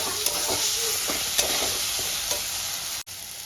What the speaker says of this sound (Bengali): ডালটা দিয়ে আমি কষিয়ে নেবো। আস্তে আস্তে তেল ছাড়তে শুরু করেছে।